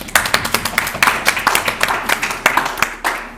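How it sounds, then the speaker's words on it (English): A small group claps in a round of applause at a gameshow, brisk sharp claps overlapping in a steady burst that lasts a few seconds, close and loud. "Give Nelson a round of applause."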